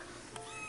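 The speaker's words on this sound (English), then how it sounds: "Kittens." Kittens meowing indoors, a few faint thin high mews rising over quiet room tone, soft and close with no talk.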